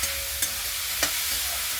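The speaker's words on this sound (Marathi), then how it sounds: "आता याच्यामध्ये पालक आणि शेपू टाकून चालवून त्याला मिक्स करून द्या" Spinach and dill leaves are stirred into fried moong dal, giving a soft, steady sizzle with two brief scraping clicks of the spoon against the pan, quiet and close.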